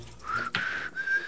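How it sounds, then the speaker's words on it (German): A person whistles a short pitched tune near a computer game, two or three clear sustained notes with a brief click between them, fairly faint and alone. "Nicht pfeifen."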